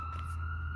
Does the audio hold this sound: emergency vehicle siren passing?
yes